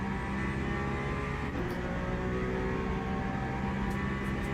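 A Ferrari race car in a Le Mans racing video game, its engine droning loud and steady as it accelerates under continuous mechanical noise, no talking.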